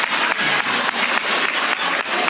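An audience claps steadily and energetically for a couple of seconds, a dense, continuous patter of many hands with no break.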